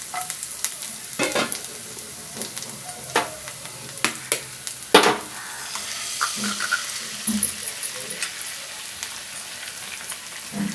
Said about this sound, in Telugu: ఇప్పుడు దీనిలో గుడ్లు కొట్టి వేసేద్దాం.